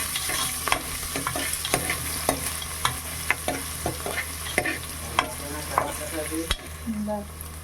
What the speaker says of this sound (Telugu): ఉల్లిపాయ పచ్చిమిర్చి వేశారు